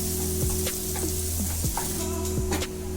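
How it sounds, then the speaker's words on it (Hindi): Chopped onion sizzles in butter in a kadai with a constant crackling fry, punctuated by several scraping strokes of a spoon stirring it, heard close and without talk. "मैं कढ़ाई में प्याज डाल दिया। उसको अब थोड़ा सा चलाएंगे"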